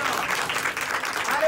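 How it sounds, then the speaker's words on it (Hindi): A church congregation at a lay leaders' seminar in Delhi claps together, a continuous even patter of hands at moderate distance, fairly soft and unbroken. "जोर से ताली बजाएंगे"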